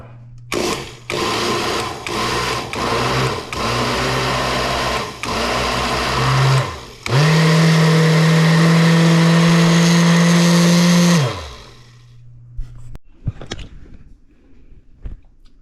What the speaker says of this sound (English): Now we have all the ingredients in the blender here.